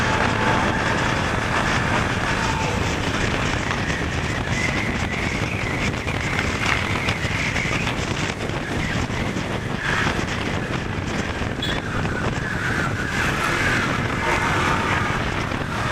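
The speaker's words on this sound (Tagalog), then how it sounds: "Lakas ng hangin!" Strong wind roars and buffets the microphone continuously over a low engine-like rumble of travel on a bumpy seaside road, loud and unbroken, with no talking.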